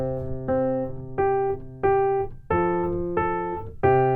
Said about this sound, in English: When most beginner pianists start learning the piano, they sound like this.